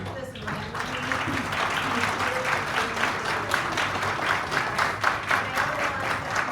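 An audience applauds at a meeting with dense, continuous clapping that starts quickly and holds steady and loud, with crowd murmur and a voice speaking underneath.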